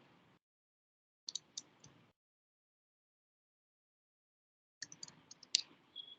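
Faint clusters of keystrokes on a computer keyboard, typing text into an SAP configuration screen, come as two short bursts of clicks separated by silence.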